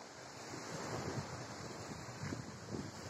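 Sea waves washing against the shore below Bekal Fort in Kerala, a steady rushing surf with gusty wind buffeting the microphone, fairly faint and continuous with no talking.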